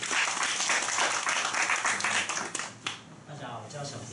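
An audience at a live self-introduction event in Taichung applauds to welcome a speaker, a dense wash of clapping that thins out after a few seconds as a voice begins talking over it.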